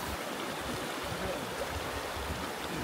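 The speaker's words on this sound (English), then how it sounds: "Here's the stream that it's literally just come out of." A spring-fed stream in Iceland flows close by as a steady, broadband rush of running water, continuous and fairly loud throughout with no voices.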